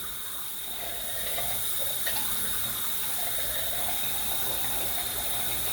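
A bathroom tap runs steadily for rinsing during a shaving routine, a close, constant hiss of flowing water into a sink with no voices.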